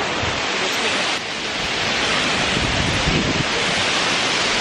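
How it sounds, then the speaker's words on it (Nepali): A cool breeze blows through Songhae Park in Daegu, South Korea, as a loud, steady wind rush that buffets the microphone throughout, with no clear voices. "साँच्चै यस्तो गर्मी मौसममा शीतल हावा चलिरहेको छ"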